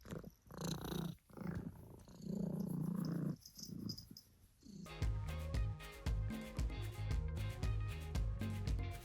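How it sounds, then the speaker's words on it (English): Close, steady cat purring rumbles for several seconds before music with plucked notes starts and takes over. "listen to this purring"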